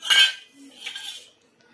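A spoon scrapes and clinks against a bowl while puttu flour is mixed with jaggery and crushed cardamom: two short, close metallic scraping strokes, then quiet.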